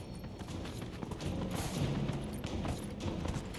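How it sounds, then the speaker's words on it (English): Horse hooves clip-clop in a quick, steady rhythm on a ride through the mountains in the video game Dragon Age Inquisition, close and fairly quiet with faint background noise. "Just taking a nice little ride through the mountains on my horse."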